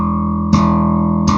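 A low bass note rings on continuously without being damped, sustained and loud, with two fresh attacks struck partway through.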